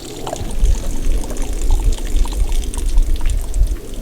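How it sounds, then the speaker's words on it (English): Water gushes and splashes steadily from an RV drain valve with a low rushing rumble, close by and continuous, with no voices over it. "and it'll let more water out."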